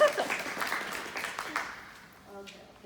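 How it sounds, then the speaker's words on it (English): Brief applause from a symposium audience for a volunteer, moderate clapping that fades quickly before a short spoken word near the end. "round of applause for"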